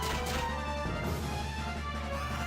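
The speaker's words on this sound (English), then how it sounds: "That's the sound of Earthquake coming for you." Earthquake attack from the Final Fantasy III game: a continuous loud rumbling crash with dense grinding noise, a heavier impact about a second in, then sustained roar to the end.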